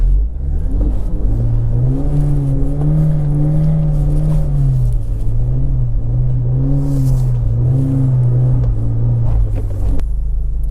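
A car circles hard in an empty parking lot doing donuts, its engine revving and holding a loud, wavering drone that rises and dips as it turns, ending in a sharp cutoff.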